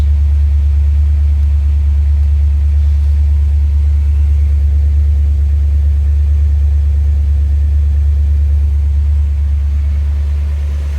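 A 1976 Corvette's 350 small-block V8 with Holley Sniper EFI and Hyperspark ignition idles steadily after a cold start, a loud, deep, even rumble running alone throughout.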